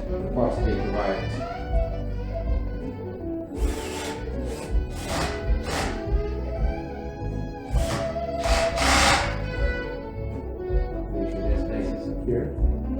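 A power drill drives screws for a Lockly Secure Pro door lock, its motor whirring in bursts with ratcheting clicks as the automatic torque clutch slips at the lowest setting, while a person talks over it.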